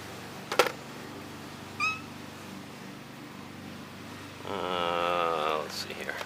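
A house cat gives a short meow, then a longer drawn-out meow a few seconds later, close by in a quiet room, amid a couple of sharp knocks and a person speaking.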